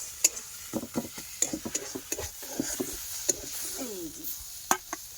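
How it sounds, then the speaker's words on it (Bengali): Leafy greens fry in a thin wok, with a quiet sizzle under sharp, irregular clinks and scrapes of a spatula stirring against the metal, close and fairly faint. "শাক ভাজাটা তুলে নেবো, কড়াটা মজে নিয়ে আসবো"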